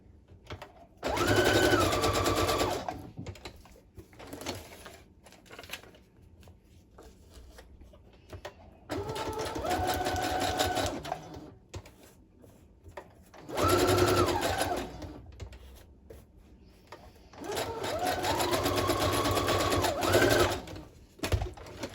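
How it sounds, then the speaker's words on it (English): A sewing machine runs a zigzag stitch on vintage fabric in four separate bursts of rapid, rhythmic mechanical chatter, each lasting a few seconds, with quiet pauses between them. "I'm going to switch to a zigzag stitch now just because."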